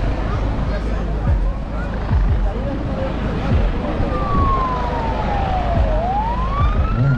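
Siren wailing from a hovering helicopter at an airshow in Cayman, a distant rising and falling tone over steady rotor thump and outdoor crowd noise.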